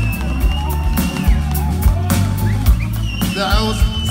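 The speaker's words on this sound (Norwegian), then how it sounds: "Kom igjen, applaus!" A crowd at a live concert at Storefjell cheers, whoops and shouts after a guitar solo, loud and close, with band tones ringing underneath and scattered yells rising above the roar.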